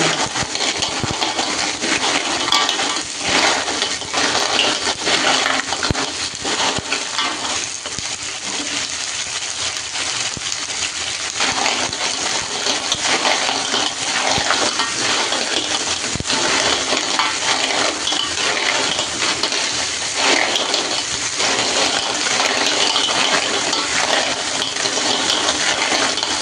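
Two kilos of cockles tip into a hot pan of fragrant sautéed aromatics, raising a loud, continuous clatter of rattling shells and sizzling that fills the whole stretch.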